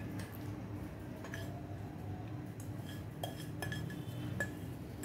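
Cooled cooked rice is spooned from one vessel into a large pot, giving faint scattered clinks and scrapes of a metal spoon against the pot over a low, steady background.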